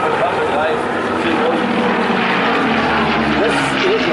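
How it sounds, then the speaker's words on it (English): Warbird aircraft with small radial engines flying back toward the crowd at an air show, a steady loud propeller drone over the whole stretch, with commentary talk layered on top. "these lovely little cheap radial engines just coming back towards us"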